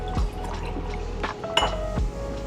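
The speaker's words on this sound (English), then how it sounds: "I gotta pour my green juice." Green juice poured into a glass while breakfast is made, a soft liquid trickle with light glassy clinks and kitchen clatter, quiet and close.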